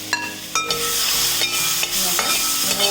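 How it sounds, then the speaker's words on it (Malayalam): Sliced plantain bananas fry in hot ghee while a spoon stirs them in the pan, a steady close sizzle broken by several scraping stirring strokes, loud and with no talking. "അപ്പോൾ ഇതേ നെയ്യിൽ തന്നെയാണ് ഞാൻ ഈ അരിഞ്ഞു വെച്ചിരിക്കുന്ന ഏത്തപ്പഴം ഇട്ട് കൊടുക്കുന്നത്. ഇതുപോലെ ഒന്ന് ഇളക്കിയെടുക്കാം."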